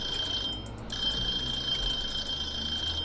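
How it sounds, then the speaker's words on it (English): A steady electronic alarm tone rings continuously in a Cooking Simulator kitchen, loud and unbroken apart from a brief dip near the start, with no talking over it. "that alarm's going to go off in a second"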